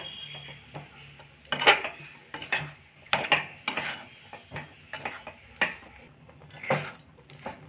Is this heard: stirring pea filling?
yes